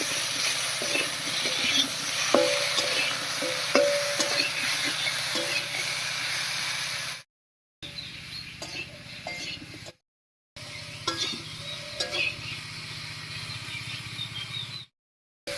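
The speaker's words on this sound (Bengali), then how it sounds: "এবার আলুর সঙ্গে একটু ভাজা ভাজা মতো করে নেব" Drumstick pieces and potatoes fry in a pan with a moderate sizzle and scraping stirring clicks, broken by several short silent gaps, no talk.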